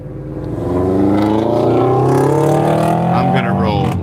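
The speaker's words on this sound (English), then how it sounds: "I had to wait for the car to go by. It's the loud exhaust." A car with a loud exhaust passes close by, its engine rising into a roaring drone with shifting tones, then fading as it moves away.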